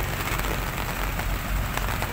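A torrential downpour drums hard on nearby surfaces, a thick steady roar of rain with scattered louder splatters and low rumbling, no speech over it.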